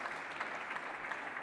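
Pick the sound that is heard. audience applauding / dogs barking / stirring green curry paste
audience applauding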